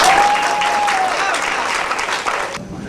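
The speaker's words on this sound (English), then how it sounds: "give her a round of applause" A crowd claps in loud, sustained applause that fades out abruptly after a few seconds.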